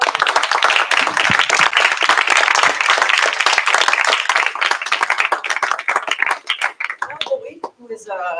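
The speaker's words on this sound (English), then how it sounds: "I'm going to give you a round of applause." Loud, dense applause from a crowd at an academic computing lecture fills most of the clip, thinning out near the end into a few scattered claps.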